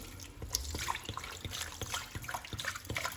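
Water is poured into a cooking pot with parsley and garlic for boiling meat, a soft trickling splash with irregular drips, quiet and close, without talk.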